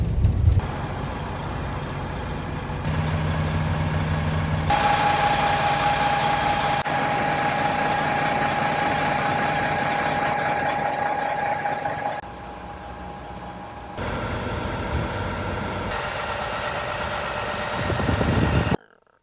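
A 1998 Prevost Marathon coach with a Series 60 diesel engine idles steadily with a low, continuous rumble and a sustained whine; the level dips briefly near the end and then swells, with no talking.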